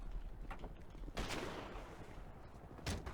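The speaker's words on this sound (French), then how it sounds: "C'est normal ce coup de feu là?" Distant video game gunshots crack faintly, a few separate bursts spread across a few seconds over a steady noisy background.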